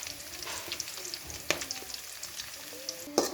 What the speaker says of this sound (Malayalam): ഒക്കെ ഇട്ടിട്ട് നല്ല ഇളക്കി കൊടുക്കാം.